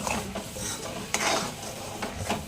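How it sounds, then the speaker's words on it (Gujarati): Tomatoes sautéed with onions in a pan for restaurant-style chole, a close spatula scraping and stirring over a soft sizzle, with a few sharper clinks. "હવે ટમેટા સાતરી લઈશું આપણે"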